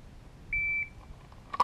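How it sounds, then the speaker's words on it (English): A single sustained electronic shot timer buzzer tone sounds briefly at a live-fire shooting class, followed moments later by a sharp, loud gunshot crack nearby. "Wait for the buzzer."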